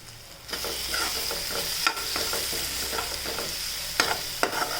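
Chillies and turmeric are stirred in a cooking pan for a palak sabzi, with a spoon scraping in quick, repeated strokes over a constant close sizzle of oil and no talking.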